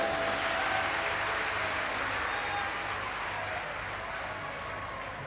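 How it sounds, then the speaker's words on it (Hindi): A crowd at a Shiv Mahapuran religious discourse applauds loudly, a dense, steady wash of clapping lasting several seconds and tapering slightly toward the end. "एक बार जोरदार ताली बजाओ।"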